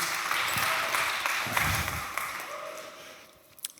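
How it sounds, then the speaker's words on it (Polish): An audience at a talk gives a speaker a round of clapping, dense at first, then thinning out into a few scattered claps as it dies away. "Gromkie brawa dla ciebie."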